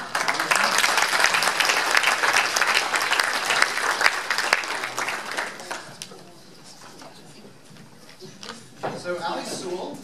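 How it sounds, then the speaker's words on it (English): An audience at a public-affairs event welcomes guests to the stage with strong applause, dense clapping that swells, dips briefly to a thinner patter, then picks up again. "Give them a round of applause."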